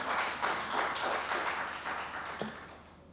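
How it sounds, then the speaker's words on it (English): Audience applause for the authors of a paper at an international hospitality entrepreneurship and innovation conference, a steady patter of clapping from a moderately sized crowd that tapers off toward the end. "big applause for them"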